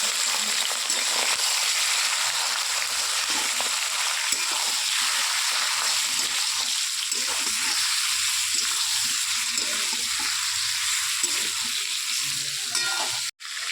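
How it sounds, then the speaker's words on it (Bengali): Mutton stirred in hot oil in a wok, a steady close sizzle and frying crackle with soft scraping stir strokes running throughout, ending in a sharp knock. "মাংসটা আমি হালকা একটু নেড়ে নেবো তেলের মধ্যে"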